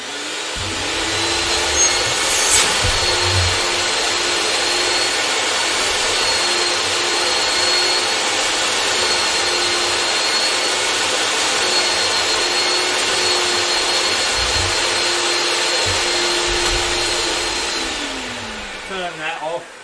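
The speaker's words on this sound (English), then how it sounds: "this is a jet propelled vacuum cleaner. You'll hear it right now." A loud, steady whine of a powerful jet-propelled vacuum cleaner running continuously, with a sustained high-pitched tone and a low hum, winding down at the end.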